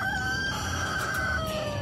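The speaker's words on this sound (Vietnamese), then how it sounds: "Một con gà trống 20 luôn đi." Up close, a rooster crows loudly and steadily at a flea market, one drawn-out call held for about two seconds with no voices over it.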